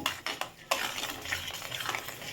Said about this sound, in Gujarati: આને આપણે હવે હલાવી દઈશું